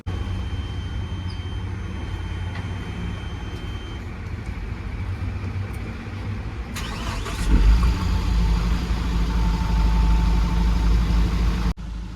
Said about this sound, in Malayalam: വണ്ടി ഒന്ന് സ്റ്റാർട്ട് ചെയ്തിടണം